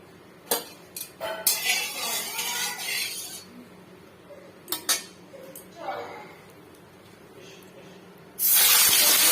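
Hot mustard oil bursts into a loud hiss and splutter as catla fish pieces go into the pan, among clanks of utensils against metal.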